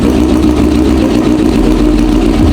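A motorcycle engine idles very loud and close, a dense low throbbing rumble that stays steady throughout with no speech.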